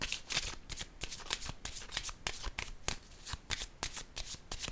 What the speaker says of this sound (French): j'ai besoin de piger une carte sur le devoir